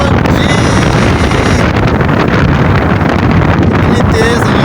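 Strong storm wind after heavy rain in an open village, roaring loud and constant as it buffets the microphone from start to finish, with a voice faintly underneath.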